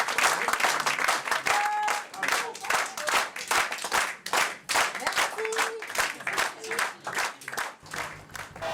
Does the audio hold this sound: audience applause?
yes